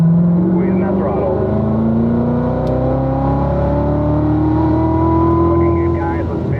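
Race car accelerating hard along a track at a performance driving school, its engine note climbing steadily through the gears for several seconds, loud and close, with an instructor talking over it.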